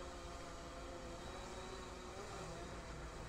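A DJI Phantom 3 Standard drone flies in beginner mode, giving a steady broadband whir at moderate distance that holds constant throughout, with no talk.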